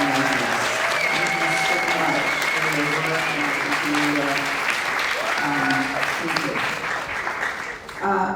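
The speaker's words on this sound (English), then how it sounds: "Can we give another round of applause to these amazing filmmakers?" An audience applauds filmmakers at a film festival Q&A, dense sustained clapping with cheers and voices mixed in, loud and continuous before easing off near the end.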